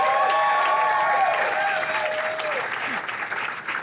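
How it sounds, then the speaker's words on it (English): Audience applause at the Slow AF Run Club book launch at NYRR RUNCENTER, a sustained crowd clapping with a faint cheer, while sustained whistle-like tones glide over the clapping. "Please clap it up for that."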